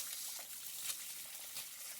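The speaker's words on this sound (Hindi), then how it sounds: "तो हमारी दोनों भैंसें अभी नहा रही हैं और मम्मी इनको इधर से नहला रही हैं" Water splashes and trickles over two buffaloes being bathed outdoors, a soft, steady wash of liquid with small splashes, faint and moderately distant.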